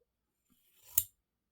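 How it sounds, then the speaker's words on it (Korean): A single short snip of blunt-tipped scissors cutting doll-clothes fabric, a dull, slightly muffled crunch that ends abruptly in near silence. "끝이 뾰족한 가위와 끝이 뭉퉁한 가위의 이 차이."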